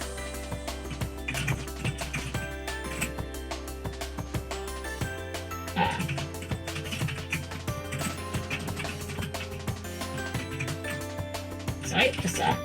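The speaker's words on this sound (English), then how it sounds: "My keyboard is quite loud, and I also do tend to hit my keys quite fierce." Loud computer keyboard struck hard, with rapid, irregular clacking keystrokes running continuously beneath a person talking over game audio.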